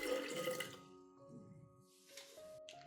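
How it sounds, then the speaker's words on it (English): Diluted honey solution is poured into aloe vera extract, giving a steady liquid trickle that fades and then returns as a few faint splashes and drips, quiet and close. "Next, I will pour the diluted honey solution into the aloe vera extract."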